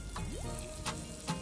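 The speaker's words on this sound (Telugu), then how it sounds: "వీటిని అంతా ఒక 2 నిమిషాలు వేయించుకోవాలి" Boiled potatoes and peas frying in a pan with masala, fennel and coriander seeds, giving a faint, steady sizzle with a few soft stirring clicks and scrapes.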